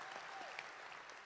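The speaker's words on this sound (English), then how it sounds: "that's a shameless attempt to get applause" Applause from the audience at a medical school graduation ceremony, a faint, steady patter of clapping heard from a distance.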